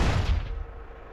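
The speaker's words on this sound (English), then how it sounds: "one mod that overhauls the weapon, the cannon of the tank" Tank cannon firing in GTA San Andreas with a weapon overhaul mod, one short heavy boom that decays quickly over about a second, fairly soft.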